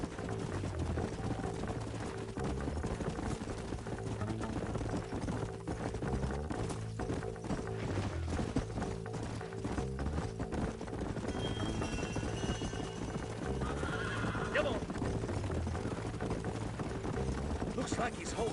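Rhythmic hoofbeats of horses running over a steady background rumble in the video game Red Dead Redemption, with a game-like mix and faint voices mixed in.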